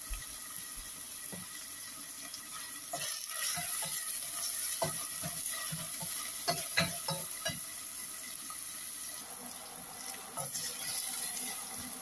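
Chicken frying in a pan for a Bangla chicken bhuna, giving a moderate, steady sizzle with scattered stirring clinks and scrapes, quieter at times, with no speech.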